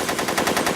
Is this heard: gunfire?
yes